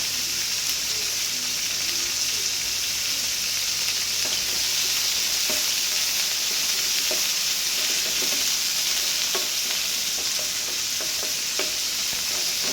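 Tomatoes sautéing in a pan for egg curry give a continuous, close, bright sizzle, broken by scattered spatula taps and scrapes as they are stirred, with no talking.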